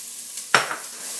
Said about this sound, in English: You hear that sizzling, which is a good sign.